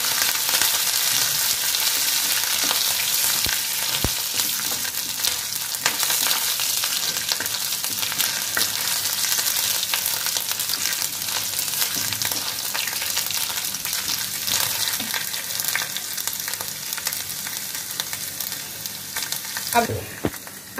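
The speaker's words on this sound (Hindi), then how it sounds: "अदरक को भी ज़्यादा नहीं भूनना है, हल्का सा ब्राउन हो जब तक।" Ginger and green chili fry in hot oil for a samosa filling, giving a steady, loud, close sizzle with occasional light stirring knocks throughout.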